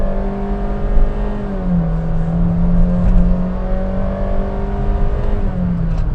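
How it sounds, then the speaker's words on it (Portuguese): A Honda City Touring 1.5 CVT sedan engine revs hard under full throttle, giving a sustained, loud, droning whine that holds high and steady from inside the cabin, with no talking. "Esse CVT disparou o giro lá para cima."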